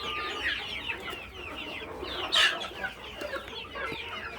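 Country chickens on an organic farm clucking in a busy overlapping chorus, with one louder squawk standing out near the middle against a steady background.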